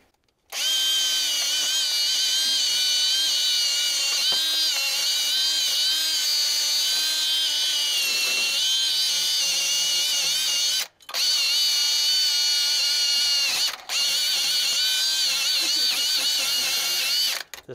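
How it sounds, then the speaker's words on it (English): A power drill with a wire brush scrubs the studs on a 1992 Freightliner FLD truck, whining loud and close in a long continuous run, with two brief stops before it spins back up. "We're going to wire brush"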